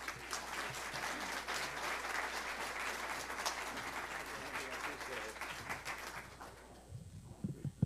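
An audience applauds to welcome speaker Frank Cerabino at a talk, with dense, steady clapping that stays even for several seconds and then fades out near the end.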